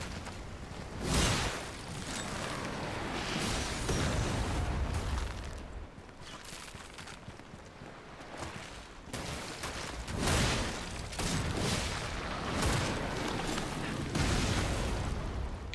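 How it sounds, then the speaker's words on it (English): Cannon fire and explosions from the video game Lies of P, a series of loud broadband booms and blasts recurring every few seconds over a dense, rumbling battle din. "At the very least, I can kind of go off sound cues for the cannon."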